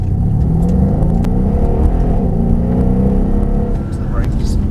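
A Mercedes-AMG SL63 engine revs and accelerates on a race track, a loud, steady rising drone heard from inside the car, with a voice talking over it.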